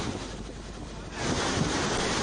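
The overflowing Narmada river rushes past in a loud, continuous roar of floodwater after heavy rain, with wind buffeting the microphone. The noise swells even stronger midway through.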